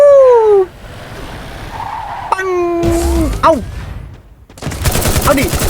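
Gunfire and explosive bursts in the game Free Fire mix with a revving vehicle engine and swooping sound effects, while a voice speaks briefly in between.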